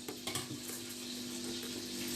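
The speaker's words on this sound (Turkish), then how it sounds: "yağımızı kavurduk sosunu hazırlıyoruz" Tomato paste sizzles and fries in hot oil, a steady crackling hiss with a few stirring scrapes at the start.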